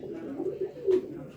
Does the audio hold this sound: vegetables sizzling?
no